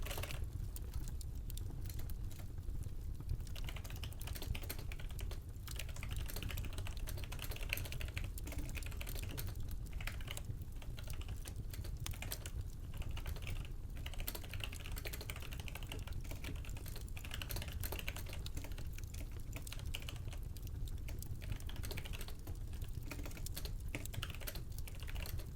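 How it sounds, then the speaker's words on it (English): Continuous clicking of keys on a computer keyboard, steady rapid typing close to the mic with brief pauses and no talking, in a dramatized SCP reading. "Keyboard sounds."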